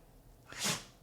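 One short sneeze bursts out after a brief intake of breath, close and fairly loud, with no talking.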